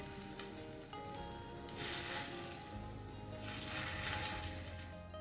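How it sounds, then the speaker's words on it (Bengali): Small sesame and onion fritters fry in shallow oil over low to medium flame, a soft continuous sizzle that swells as more batter goes in, close and without voices. "এবার ছোট্ট ছোট্ট করে বড়ার শেপে আমি এগুলো তেলের মধ্যে দিয়ে দেব"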